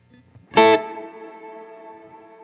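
A lone chord played into a Strymon BigSky MX reverb with pre-delay added, a soft lead-in, then a loud strike that blooms into a long sustained wash slowly dying away.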